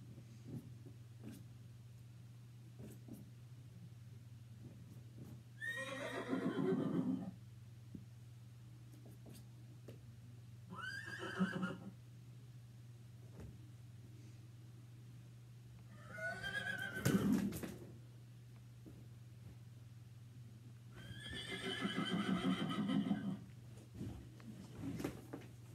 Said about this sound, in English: 10 hours and 1 second of horse sounds